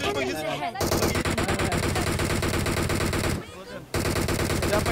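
In PUBG Mobile, loud rapid-fire automatic gunfire rattles almost continuously, with a brief gap near the end before the shooting resumes.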